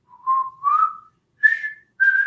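A person whistles alone in four short tones, two lower notes followed by two higher ones after a brief pause, clear and close.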